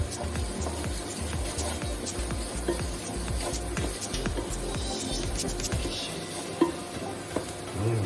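Ginger stirred into a hot, sizzling pan with garlic while cooking palak paneer, a steady fry hiss under repeated scraping strokes of a utensil, with a couple of sharper clinks near the end.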